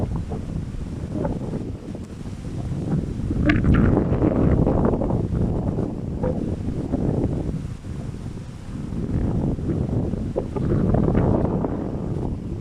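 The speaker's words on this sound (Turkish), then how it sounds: "Biraz esinti var. Esinti olmasaydı güzel bakılırdı." Breeze gusting across a microphone outdoors during an inspection of a two-story beehive, a loud low rumbling buffet that surges and eases in waves for the whole stretch, with no voices.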